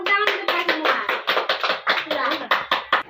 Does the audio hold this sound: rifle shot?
no